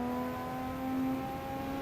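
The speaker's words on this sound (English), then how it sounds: "The engine sounds so good." Nissan Skyline R34 GT-R engine accelerating on the Nordschleife, a steady droning engine tone climbing gently in pitch, heard from inside the car at moderate level with no talk.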